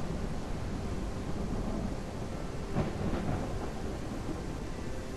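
A thunderstorm in the kayaking game Kayak VR Mirage rolls on as a steady low rumble of rain and wind, with a brief crack of thunder swelling midway.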